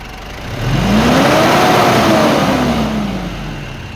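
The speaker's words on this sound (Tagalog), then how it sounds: "narinig naman natin na sobrang smooth ng andar ng makina at itry nating i-rev" A 2010 Mitsubishi Strada's 4M41 turbo diesel engine is revved once, rising smoothly from idle to a loud peak and sliding back down, alone with no voices.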